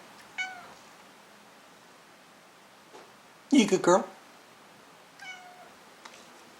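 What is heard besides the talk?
cat meowing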